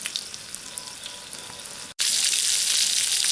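Sausage sizzles and fries in a pan over a primed Bud Light aluminum bottle stove, a steady close crackling hiss that briefly drops out, then returns louder and more intense.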